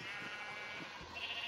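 Minecraft sheep bleating beside a pen gate, a few short nasal bleats repeating over steady game background sound, fairly close and clear.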